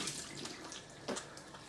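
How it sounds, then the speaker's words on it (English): Water splashes at a bathroom sink as someone rinses their face, a quiet, brief run of uneven splashes and drips with a couple of sharper splashes near the end, no talking. "Sorry, I'm not talking while I'm rinsing here"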